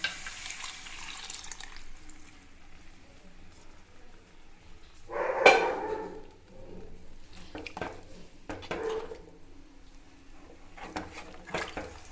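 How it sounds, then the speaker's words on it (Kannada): A brief gush of water pours into a pot of bisi bele bath, followed by a few faint clinks and quiet kitchen background noise. "ಹಾಗೆ ಇದಕ್ಕೆ ನೀರು ಹಾಕೋಬೇಕು"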